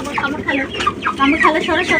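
Chickens cluck while pecking at feed, giving a quick run of short, close, nasal clucks with a faint murmur behind them.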